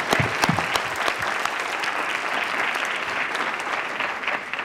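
Graduation ceremony audience at ICCI Graduation 2018 applauds graduates and trustees: dense, sustained clapping from a large crowd fills the hall evenly, with a few louder close claps at the start.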